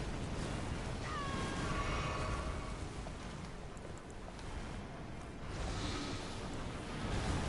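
A pet cat on a bed gives one faint drawn-out meow under steady background noise.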